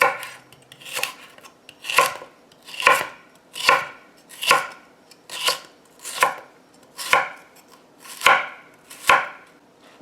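A kitchen knife chops celery into very fine pieces on a cutting board, about eleven crisp, evenly spaced strokes roughly one per second, close and clear with no talking.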